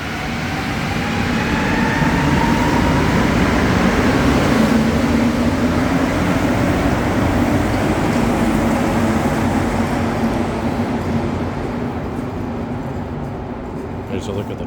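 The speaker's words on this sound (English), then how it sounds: "we'll get a nice view of our train departing." A Montréal Métro train departs the station with a loud, sustained rumble and rising whine that slowly fades as it pulls away, while a voice talks over it.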